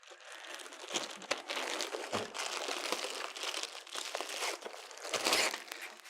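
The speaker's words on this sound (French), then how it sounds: "On va essayer de ne pas trop déchirer le sac." A plastic bag crinkles and rustles continuously up close as a Bernina B 880 Plus sewing machine cover is unwrapped, with a few sharper crackles along the way.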